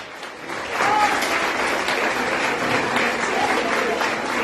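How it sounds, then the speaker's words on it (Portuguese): A congregation at a Sunday church service claps loudly for the Lord, a full, continuous wash of applause that swells after the first second and holds steady, with faint voices mixed underneath. "E aplauda o Senhor de forte."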